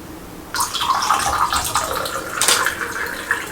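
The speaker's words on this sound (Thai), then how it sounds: "ใส่น้ำลงไปครับ ในช่วงที่เราเทน้ำลงไปเนี่ย" Water splashes and pours in a steady stream into a glass after a short quiet start, with bright gurgling and a few sharper splashes, close by.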